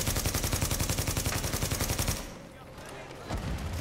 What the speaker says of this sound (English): Keep shooting at me, bruh.